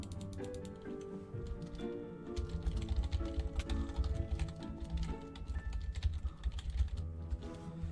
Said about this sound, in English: Yeah, I'm just typing it out